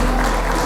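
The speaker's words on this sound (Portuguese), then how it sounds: "Vamos aplaudir o Emanuel." A church congregation applauds, a dense, loud, steady wash of clapping throughout the brief moment.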